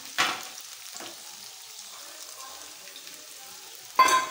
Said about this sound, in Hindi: अब मैं इसमें मटर डालूंगी